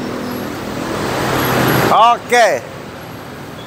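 A bus goes by on a road with a broad, rolling traffic rumble that slowly swells, and someone speaks a short word as it passes.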